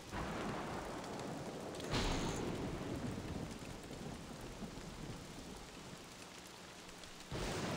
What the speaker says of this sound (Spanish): La tormenta, el huracán.